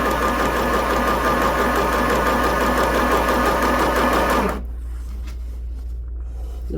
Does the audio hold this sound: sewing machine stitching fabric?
yes